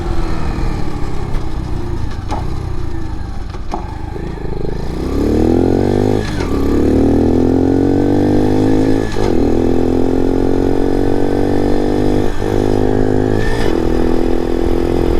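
A Honda CT70 clone motorcycle with no clutch runs loud and close. Its engine climbs and drops in pitch through repeated gear shifts, and each shift briefly breaks the steady drone.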